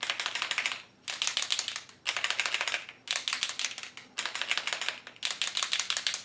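A paint marker being shaken hard, its large mixing ball rattling inside in fast clicking bursts; about five separate rounds of shaking, each lasting roughly a second, with short pauses between them, close and loud with no talking.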